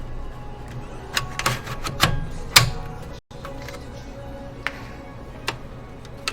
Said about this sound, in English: Definitely hear them clicking into place now.